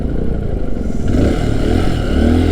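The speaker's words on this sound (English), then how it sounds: "that gas generator sounds like my motorcycle" A gas generator running nearby, a loud steady motor drone with a rough, pulsing engine tone, heard continuously with no talk.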